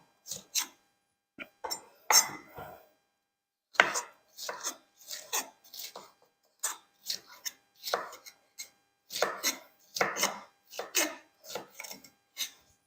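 Knife chopping red, yellow and green peppers on a board, crisp close chops in irregular quick runs with short gaps, no talk.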